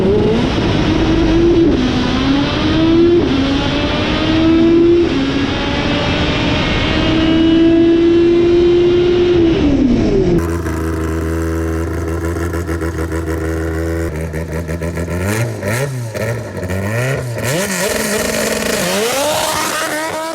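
Race-prepped AWD Honda Civic EG hatchback with a naturally aspirated B18C1 engine, loud and close, holding a high rev tone with gear-change dips before cutting to a rougher, warbling full-throttle pull under load.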